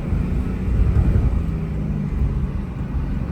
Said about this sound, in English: In this car, you can hear the intake noise.